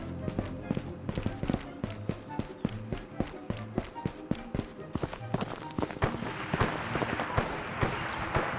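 Rapid footsteps of a character in the battle royale game ANAREA Battle Royale, a steady run of sharp, close thuds that carries on throughout, with busier game noise building toward the end.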